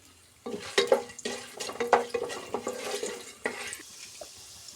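Whole cinnamon, cloves, cardamom and black pepper hit hot fat in a pot, giving a series of crackling, stirring bursts with light sizzling between them, close and fairly quiet, with no one speaking.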